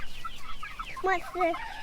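Silkie chickens clucking inside a roomy new coop, a few short close calls rising near the end against quiet background rustle.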